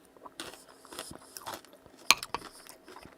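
Crunchy snacks bitten and chewed alongside cheese soup, several close crisp crunches mixed with clinks of cutlery on dishes, one sharp loud bite standing out, no talk.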